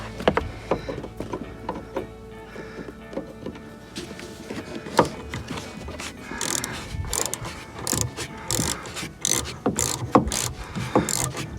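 A ratchet wrench clicks as a 10mm bolt is loosened from a Jeep JL tail light, with uneven close ratcheting bursts, rubbing and handling clatter, no talking.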